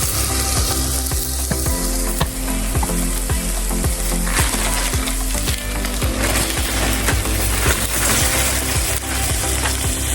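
Meat fries in a hot pan for a lasagne, a steady loud sizzle and crackle throughout, broken by repeated scraping and tapping of a utensil against the pan.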